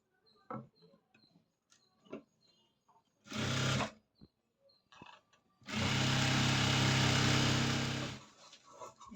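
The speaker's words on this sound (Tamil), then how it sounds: "உள்ளுக்குள்ளே திருப்பி ஒரு தையல் போட்டுக்கலாங்க" Sewing machine stitching a cross-cut blouse, with a short whirring burst followed by a longer steady run, up close, among light handling clicks and taps.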